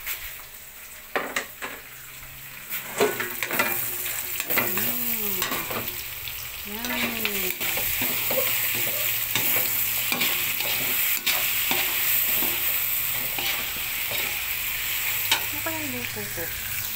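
Onions go into a pan with chicken wings and liver adobo and fry with a steady, close sizzle, while a utensil scrapes and clinks against the pan in repeated stirring strokes.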